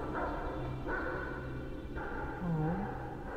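In the video game Guardians of the Galaxy, a dog whimpers and yelps in a thin, wavering whine, rising and falling a few times at moderate distance over a low ambient game background.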